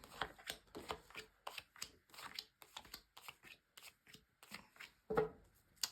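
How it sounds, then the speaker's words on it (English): Tarot cards shuffled by hand in a series of quick, crisp riffles and slaps, steady and close, with a sharper knock near the end and no voices. "So first of all, a good shuffle."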